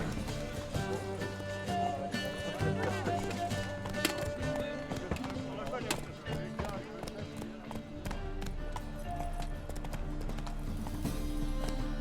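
Roach, Geralt's horse in The Witcher 3, gallops with rapid rhythmic hoof clip-clops running throughout beneath game music and tonal ambience, while a voice speaks briefly over it.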